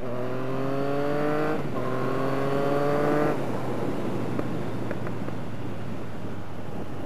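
A Yamaha FZ09 motorcycle fitted with an RSC stunt clutch accelerates on a street test ride, its engine note climbing through two quick upshifts before giving way to steady rushing wind noise.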